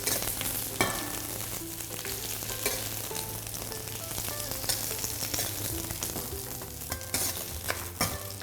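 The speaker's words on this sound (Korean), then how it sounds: "양파를 먼저 볶아주는 이유는요." Onions fry steadily in oil in a pan, a close, constant sizzle broken by occasional scrapes and clacks of a stirring utensil, with no one talking.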